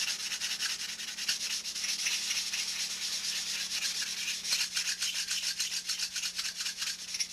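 A sanding block works over thin wood sheeting with brisk repeated strokes, a near, steady scratchy rubbing that grows slightly choppier toward the end.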